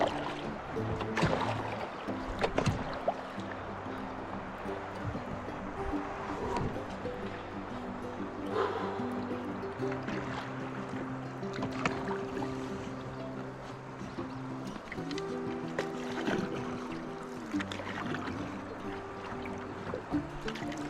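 Gentle, rhythmic splashes of a kayak paddle dipping into the Buffalo River in Arkansas, repeated strokes close by over a low background rumble, with faint voices now and then.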